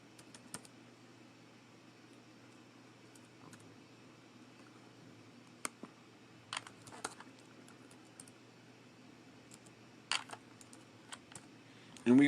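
Sparse keyboard typing, a few short bursts of clicks scattered over a quiet room tone, close and faint, with no talk over it.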